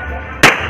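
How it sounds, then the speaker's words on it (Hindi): A firecracker goes off with one short, loud, sharp crack over a steady background hum. "ये आकाश पटाखा फोड़ते हुए,"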